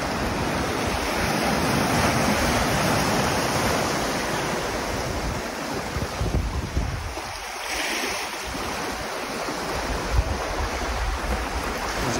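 Ocean surf washing onto a beach on the West Coast Trail, a steady broadband roar of breaking waves with wind noise on the microphone, continuous and fairly loud throughout with no talking.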